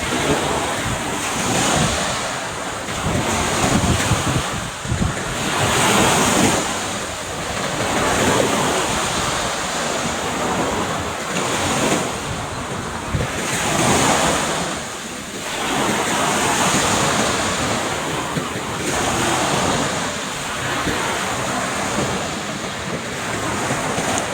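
Waves on the Black Sea break and recede in slow surges every few seconds while wind rushes across the microphone, loud and unbroken, with no one speaking.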